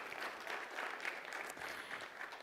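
Audience applause at an anti-corruption summit, a steady wash of many hands clapping throughout, fairly distant and even with no voices over it.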